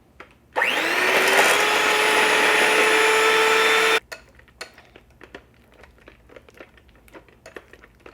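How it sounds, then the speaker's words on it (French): A blender whirs loudly for about three and a half seconds mixing shea butter, starting abruptly and cutting off, followed by quiet clicks and light handling noises. "Et je commence à le mixer encore."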